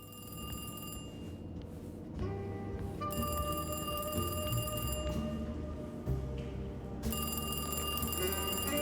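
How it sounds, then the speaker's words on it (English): A telephone bell rings in the Alone in the Dark video game, sounding in repeated bursts with short pauses between them over a low, steady background hum. "Let's answer the phone for him."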